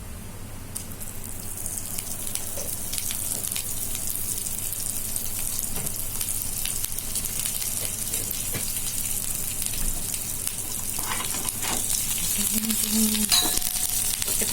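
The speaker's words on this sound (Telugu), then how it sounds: "చిట్టపట్టలాడుతుంది." Cumin seeds and curry leaves splutter and sizzle in about half a spoon of hot oil for a Telugu tamarind dish, a steady close frying crackle with occasional sharper pops throughout, no voices.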